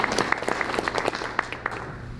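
A school board meeting audience gives a round of steady applause, dense overlapping claps filling the room at moderate volume, with no talking over it.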